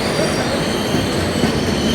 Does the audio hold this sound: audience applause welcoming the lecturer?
no